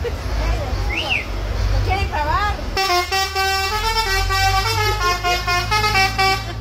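A bus horn in Mexico blares loudly in a rapid sequence of musical multi-tone notes for several seconds, after a brief stretch of squealing voice-like sounds.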